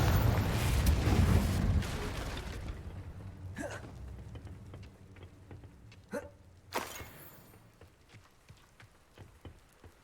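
A Confringo blasting spell in the Hogwarts Legacy video game erupts in a loud, rumbling burst that trails off into a long decaying crackle, with a few sharp magical impacts popping afterward.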